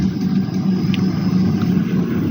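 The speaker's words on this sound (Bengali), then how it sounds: "এই যে গাড়ি আসতেছে" An auto rickshaw's engine drones steadily and fairly loud close by, a continuous low hum without pauses.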